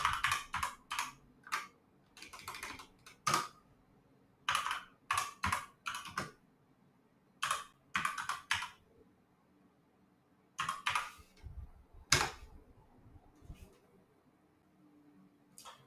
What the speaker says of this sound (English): What happens if I type in Trump fascist?